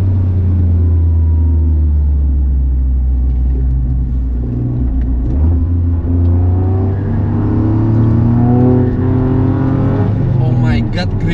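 A Toyota GR Yaris is driven hard around the Mandalika racing circuit, its engine droning in a loud, low in-cabin rumble with rising and falling revs, heard under someone talking.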